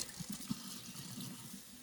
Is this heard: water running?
yes